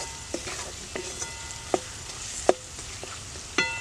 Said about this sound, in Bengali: দিয়ে দিচ্ছি কেটে রাখা চার পিচ আলু আলুটা দিয়ে একটু ভালো করে কষাতে হবে